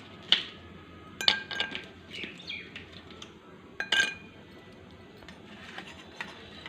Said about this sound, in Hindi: यहाँ पे हमने लिया है 1 गिलास, तो जिसमें आइस डालेंगे